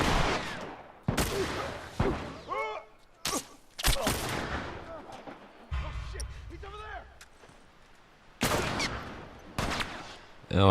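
Bursts of enemy gunfire in The Last of Us, several sharp loud shots and short volleys spread across the scene, with someone talking in between.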